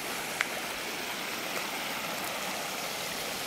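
Steady, even rushing of a flowing stream, a continuous broadband wash with a faint tick near the start and no voices.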